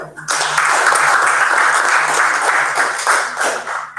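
Applause for volunteer award winners at an unveiling function, a dense burst of clapping that starts abruptly and holds at full strength for a few seconds, with a faint low hum beneath.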